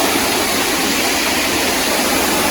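Nalagana Ella waterfall in Sri Lanka roars in a loud, steady, unbroken rush of falling water heard up close, with no voices.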